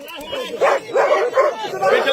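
A dog yips and barks in quick short bursts close by, four or five sharp calls in a row, with people talking around it.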